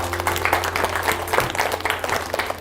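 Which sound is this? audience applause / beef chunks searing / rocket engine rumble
audience applause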